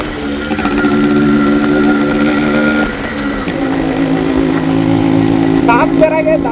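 A 1991 Yamaha RX100, a 100 cc two-stroke motorcycle, buzzes steadily in top gear while being ridden, with one brief dip in revs midway, loud and close throughout.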